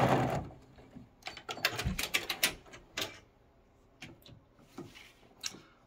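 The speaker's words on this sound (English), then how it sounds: "And then I'll finish it off with a back stitch as well." A sewing machine stitching the edge of a quilt block and finishing with a back stitch, quiet uneven bursts of rapid needle clatter with short pauses and small mechanical clicks between runs.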